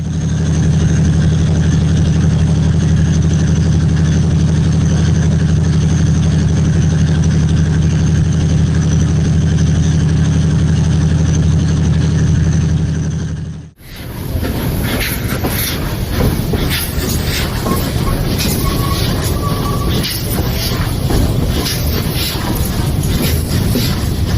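A cold diesel locomotive engine runs with a loud, steady low idle for about fourteen seconds, then a sharp cut leads into denser, busier engine and rail clatter that continues to the end.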